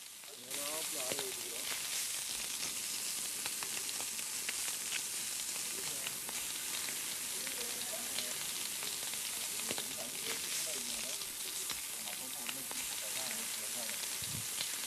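Rock fish sizzling and frying on a very hot stove outdoors, a steady dense crackle running throughout with occasional louder pops, close and continuous.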